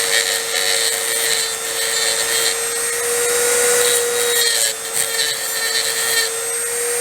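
A Dremel rotary tool fitted with a grindstone runs on an OMC Cobra upper gearcase part, producing a loud, steady high-pitched whine with a bright grinding hiss that holds throughout.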